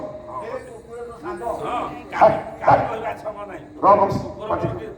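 A man imitates dog barking with his voice: several short yapping bow-wow bursts, loud and close, interleaved with speech during an Odia comedy skit.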